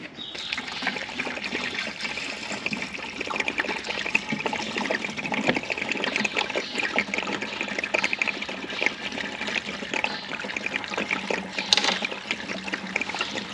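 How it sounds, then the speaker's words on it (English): Coolant drains from a tractor radiator hose during a repair, a steady close trickle and splash of liquid running continuously, with no talk. "We got to drain the coolant and pull that hose and put the new hose on."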